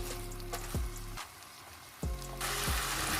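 Chinese rice ingredients fry and get stirred in a pan, a steady loud sizzle broken by clanking stirs and scrapes, briefly dipping before the hiss surges back.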